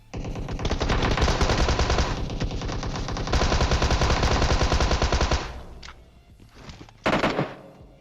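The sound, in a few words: gunfire in a video game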